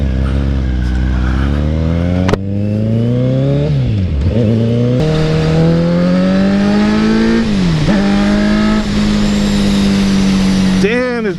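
A Kawasaki Z900 motorcycle engine roars loudly and close while riding, its pitch climbing and dropping through repeated rev surges and gear changes, with wind noise and a brief voice mixed in.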